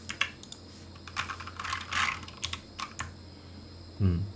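Clicks of a computer keyboard during illustration software work, with the Alt key pressed: a run of close, crisp keystrokes in an irregular rhythm over faint background hum, and no talking.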